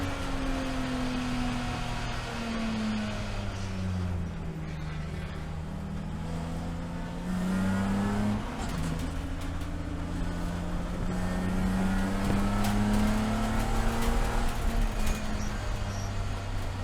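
Onboard a BMW Spec E46 race car lapping VIR in an SCCA Super Tour race, its engine droning loudly and steadily as the pitch climbs and falls through gear changes, with wind and road rumble throughout.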